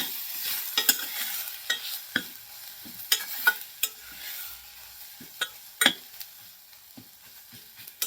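A ground spice paste (vaatan) for a chilli kharvang dish is stirred in a hot pan on medium heat, a spoon scraping in irregular strokes over a soft, faint sizzle.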